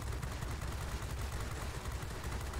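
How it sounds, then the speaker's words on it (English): A 20mm cannon on a PZL P.38 Wilk fighter in World of Warplanes fires in a loud, dense, rapid burst of thudding shots that runs unbroken for the whole stretch, with no talk over it. "There you go, 20mm cannon for you."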